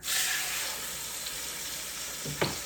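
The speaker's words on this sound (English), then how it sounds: "I am just going to get this seared on all sides" Chuck roast sears in a hot pan for beef Burgundy pot roast, a steady loud sizzle filling the clip, with a brief shuffle near the end as the meat shifts.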